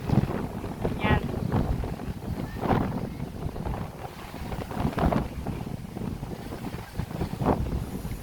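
Strong gusts buffet an outdoor microphone on a dry, windy day in a barangay, producing a steady low rumble with periodic louder surges throughout.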